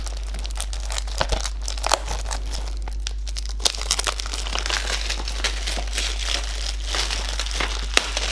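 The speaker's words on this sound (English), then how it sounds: "I'll try and get through this foil as quietly as possible." Foil wrapping is crinkled and torn off a Kingdom Come: Deliverance collector's edition game box, making close, irregular crackling and ripping with occasional sharper crunches over a steady low hum.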